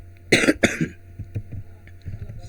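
Two harsh, close coughs in quick succession, followed by softer throat sounds and low rumbling.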